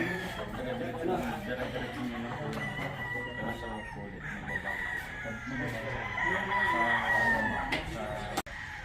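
Gamefowl breeder chickens and roosters, with roosters crowing repeatedly and hens clucking nearby, mixed with people talking throughout.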